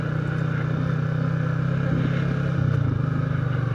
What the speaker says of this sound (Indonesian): motor gue nih